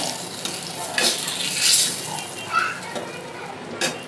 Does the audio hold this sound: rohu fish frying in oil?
yes